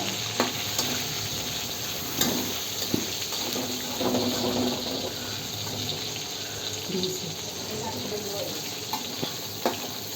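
Crab pieces fry in hot oil at home, a steady crackling sizzle with occasional stirring clicks and scrapes, heard close and fairly loud without speech.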